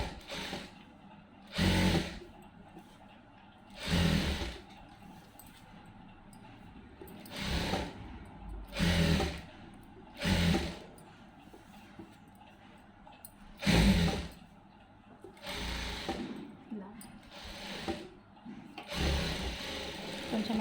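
A sewing machine stitches a lined blouse in short separate bursts of whirring, each a second or two long, with pauses between them.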